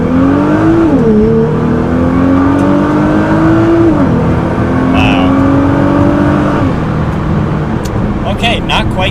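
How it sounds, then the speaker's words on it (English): A tuned Nissan GT-R in valet mode, limited to 8 PSI, accelerates hard from a standstill to 60, its engine note climbing steadily through gear changes, loud and close inside the cabin, with voices talking over it. "we are going to put it into valet mode, which 8 PSI and no throttle response"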